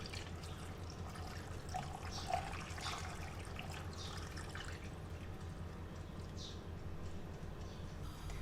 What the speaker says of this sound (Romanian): și îi acoperim cu apă